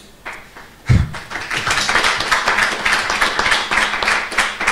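An audience at a student election hustings breaks into applause after one sharp tap, and the crowd clapping builds into a steady, fairly close round that keeps going to the end.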